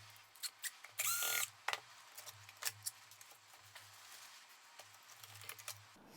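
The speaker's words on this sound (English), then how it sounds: "First, I need to unscrew the old 821 oscillator." An old 821 oscillator is unscrewed from an HP 8563A spectrum analyzer: a short burst of a small power driver whirring, followed by scattered light metallic clicks and taps in a quiet room.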